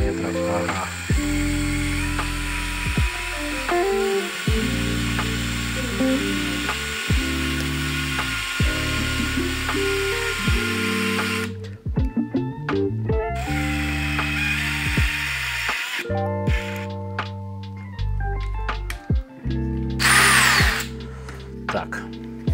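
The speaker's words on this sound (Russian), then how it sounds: "вот такое чудесненькое отверстие. Еще на одну ступеньку, чуть-чуть не досверлил." Step drill bit boring a hole while refurbishing an old Bosch 12V cordless drill battery, the power drill whining through repeated speed-varying bursts with short stops, loud and close, and someone speaking briefly.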